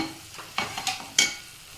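Spoon stirring potato palya in a pan after the stove is switched off, a few short scraping strokes and light clinks, close by, with no talk.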